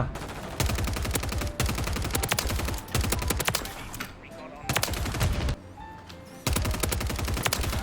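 Rapid automatic gunfire from a Superi 46 (CMMG MkG) SMG in Call of Duty: Modern Warfare, loud, close bursts of sharp shots broken by short pauses, with battle noise between them.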